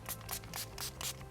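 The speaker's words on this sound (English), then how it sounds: "I already sprayed my Soleil all day, but I'll spray some more for you" Five short, soft bursts of fine makeup setting spray misting in quick, fairly even succession, close by and quiet, with no voices.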